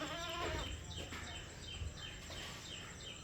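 A young goat about three months old, at a livestock sale, bleats several times in quick, wavering calls over a low background hum.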